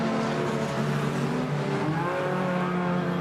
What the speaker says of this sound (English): Just idling around the circuit for the points there.